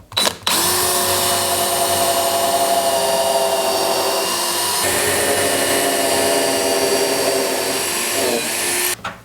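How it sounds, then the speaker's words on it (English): A power drill whines steadily for about nine seconds, a loud continuous motor drone with a brief dip midway as it bores through wood. "let's go ahead and drill these holes"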